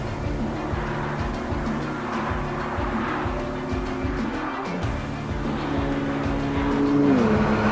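A BMW M2 CS drives with its engine tone running steady and fairly loud throughout, the pitch climbing and dropping once near the middle and rising again toward the end, with no voices.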